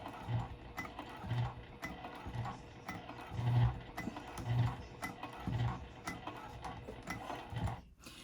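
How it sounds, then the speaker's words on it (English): A sewing machine stitches a zipper pouch seam slowly, with soft rhythmic mechanical thumps roughly once a second over a quiet background whir. "I'm just going to go slow in case my needle deflects"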